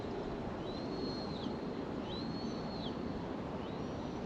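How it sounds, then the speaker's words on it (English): A hawk's high, drawn-out screech repeats three times over steady outdoor noise at Cumberland Hill Tower, Trinidad, each cry ringing out with an echo. "Occasionally I did hear a hawk or two,"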